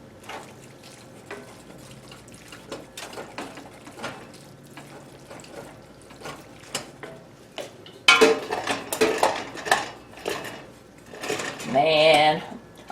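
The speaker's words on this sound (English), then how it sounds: "let's go ahead and mix it thoroughly" A spoon stirs Spanish rice in a pot, with scraping and clinking against the metal that grow louder and busier in the second half, under intermittent talk.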